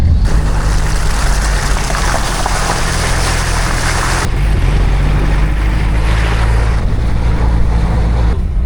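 A LuAZ off-road vehicle with four-wheel drive engaged hums loudly and continuously, a broad rough drone of engine and drivetrain with a brief shift in tone partway through, driving through snow.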